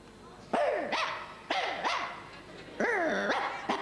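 A person imitates a small poodle barking at a circus festival, giving three distinct yapping barks with rising and falling pitch, fairly close and clear over a quiet background.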